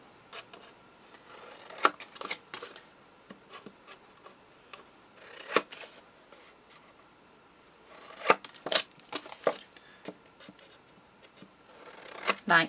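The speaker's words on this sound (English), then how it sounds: "then you just trim off those corners" Scissors trim the corners off paper for a handmade portrait album, giving a few quiet, close snips spaced irregularly with short pauses between cuts and no talk.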